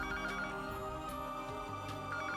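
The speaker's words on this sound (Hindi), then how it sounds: "कोई फोन क्यों नहीं उठा रहा? फोन बज रहा है बाहर।" Somewhere outside a room at home, a telephone keeps ringing, a steady, muffled electronic ringtone that sounds somewhat distant and low through the wall, with no one speaking over it.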